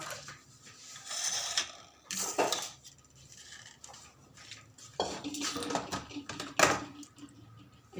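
A metal cooking pot clanks and scrapes in short bursts as it is lifted and set down while cooking an Onam dish, with quiet kitchen clatter in between.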